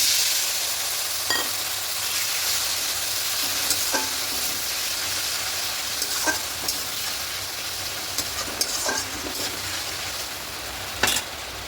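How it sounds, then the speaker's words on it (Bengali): Spice paste sizzling in oil for katla fish kalia, a constant crackling fry with spaced-out knocks and scrapes of a spoon against the pan. "ভালো করে কষিয়ে নিচ্ছি মশলা থেকে তেল ছাড়তে শুরু করে দিয়েছি"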